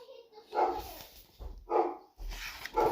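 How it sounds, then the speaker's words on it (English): A dog barks in three separate bursts of woofs and yips at moderate distance, fairly quiet, with short gaps between the bursts. "Dog's barking."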